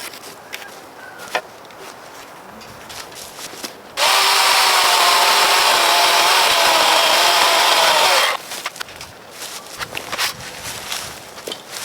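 A chainsaw cuts 9-inch timber frame tenons for a pergola, running as a loud, steady high-pitched whine for about four seconds in the middle, framed by quieter rustling and handling noises before and after.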